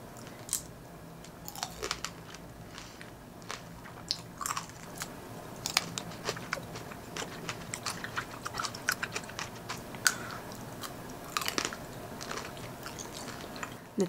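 Close, crisp chewing of a tangerine, with irregular small crunches and wet bites repeating steadily for about fourteen seconds without talk.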